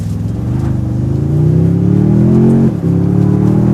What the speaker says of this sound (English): We're gonna give it a little bit of gas and see what she can do.